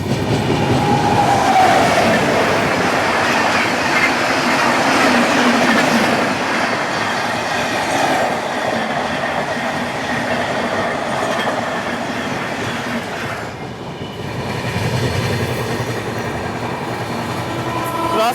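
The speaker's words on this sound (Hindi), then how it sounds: "crossing MGR Chennai central new Delhi Tamil Nadu superfast express" The Tamil Nadu Superfast Express thunders past at a crossing, a loud continuous roar of wheels and carriages with rhythmic clickety-clack and occasional squeal, dipping briefly before surging again.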